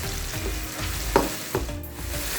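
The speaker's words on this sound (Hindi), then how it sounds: "ये जो टमाटर है इनको अच्छे से ऐसे मिक्स कर लेंगे" Chopped tomatoes sizzle in a hot karahi for an egg karahi dish, a continuous frying hiss broken by a couple of scraping stirs of the spoon against the pan.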